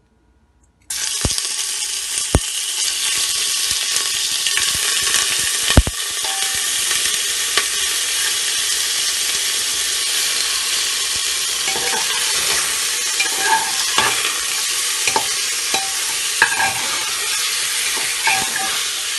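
Chicken pieces sizzle steadily in hot oil, a loud continuous crackling hiss that starts abruptly, with occasional pops and clinks from stirring.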